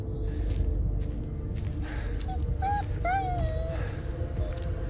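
A dog whimpers and yips in high, wavering whines over a steady low rumble of ambient noise in the horror video game Blair Witch, the cries rising and falling in short bursts.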